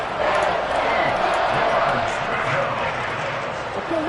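Crowd noise fills a football stadium during a Colts versus Detroit game ahead of a big third down, a steady roar of many voices with announcer talk over it.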